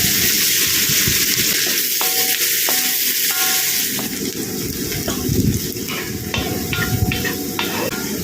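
Sliced onions frying in oil left over from frying prawns, with a loud, steady sizzle and hiss close by, plus scraping and stirring sounds that come and go.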